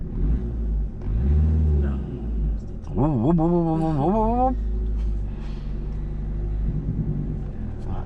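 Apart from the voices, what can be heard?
car pulling away in first gear during driving lesson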